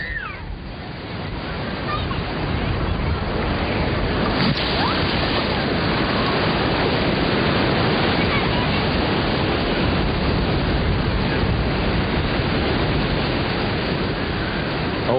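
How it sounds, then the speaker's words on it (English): Fairly high sea waves breaking on a tsunami-hit Sri Lankan shore, a loud continuous roar of surf with steady wash and rumble, close and unbroken throughout, no one talking. "Although the waves are a bit high"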